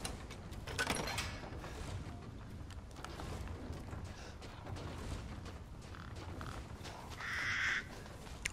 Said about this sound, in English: I keep forgetting to shoot the crows